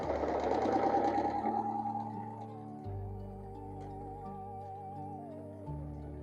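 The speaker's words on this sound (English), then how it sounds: "This is as fast as I can sew on this machine." A sewing machine runs at its top speed, with a rapid, rhythmic mechanical whir that is loudest at first and then settles into a steady, slightly lower hum, with no voices.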